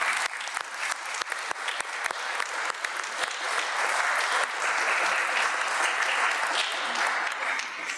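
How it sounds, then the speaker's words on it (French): Applause at a municipal council meeting, a dense wash of many hands clapping that swells and holds steady for several seconds, with a few sharper claps standing out near the start. "On peut vous applaudir, je crois."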